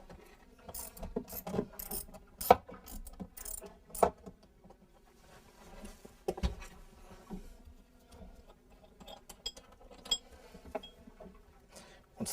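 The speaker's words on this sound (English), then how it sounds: "we need an 11mm socket or spanner and undo the centre bolt" Close, intermittent metallic clicks, taps and knocks come from an 11 mm socket working the centre bolt of a diesel engine filter, in irregular bursts with quieter gaps and no talking.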